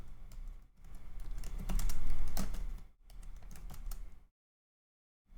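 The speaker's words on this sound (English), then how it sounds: "I'm just going to type in create a profitable website." Rapid clattering keystrokes on a computer keyboard in two bursts separated by a short pause, close and clear, then silence, with no talking.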